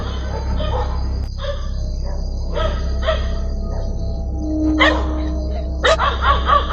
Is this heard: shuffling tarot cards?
no